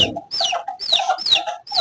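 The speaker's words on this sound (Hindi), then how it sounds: "ये मुर्गी ऊपर चढ़ रही है" Chickens cluck in quick, close repeated calls, several short rising-and-falling bursts in a row, with no talking over them.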